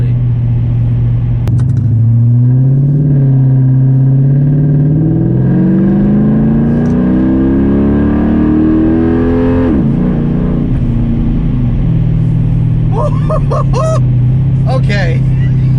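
A Mercedes CLK500 W209 V8 engine fitted with a throttle booster revs up in a long rising whine, drops sharply, then settles into a loud, steady rumble, with brief voices near the end.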